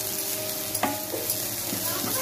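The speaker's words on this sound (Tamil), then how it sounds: "இந்த சூடிலே வதங்கிடும்." Grated coconut and coriander sautéing in a hot pan for a thuvaiyal, a close, steady sizzle with a few scraping stirs of a utensil.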